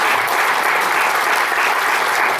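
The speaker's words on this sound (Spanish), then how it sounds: "Un aplauso." Sustained audience applause at an evening talk on migration, a dense, even roar of many hands clapping, loud and close, with no voices over it.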